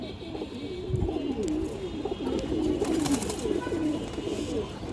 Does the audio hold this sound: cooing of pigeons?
yes